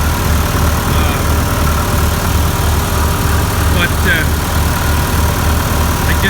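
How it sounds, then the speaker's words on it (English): A 685 tractor engine runs steadily just after a cold start, a loud continuous low rumble with a regular throb, while someone talks briefly over it. "This one, it started up, the whole tractor was shaking."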